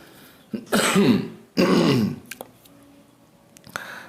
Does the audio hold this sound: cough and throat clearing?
yes